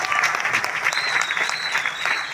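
Loud, dense audience applause fills an event hall in Vashi, a steady wash of many hands clapping with a faint whistle-like tone running through it and a few voices underneath.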